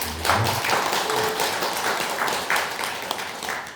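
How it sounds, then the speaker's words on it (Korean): A church congregation at a Korean Sunday service claps in encouragement, producing loose, uneven handclaps that come and go in clusters over a few seconds at moderate volume, without speech on top. "건강하고 신앙생활을 열심히 할 수 있도록 격려의 박수 부탁드립니다"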